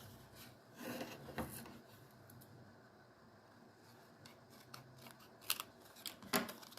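Scissors snip through paper while trimming a strip for an altered paperclip craft, a few soft crisp cuts with rustling and handling noises between them, close and fairly quiet.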